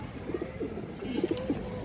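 Soft, low pigeon coos repeat in short rolling phrases, close by, over a quiet background hum; a female Kaldam pigeon at a pigeon farm.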